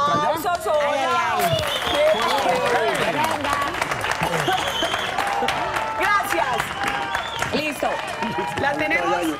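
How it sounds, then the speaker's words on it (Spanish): A studio audience applauds at a televised show, a sustained patter of many hands clapping at moderate distance, mixed with crowd noise and a voice talking over it. "Aplausos."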